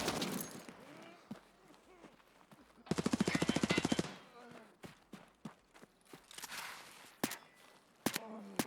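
Rapid automatic gunfire from a video game weapon rattles out in a dense burst lasting about a second, surrounded by scattered single shots, footsteps and other game effects, while a voice talks through much of it.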